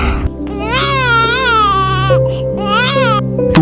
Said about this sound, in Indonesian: Iya ya, kayak suara bayi nangis.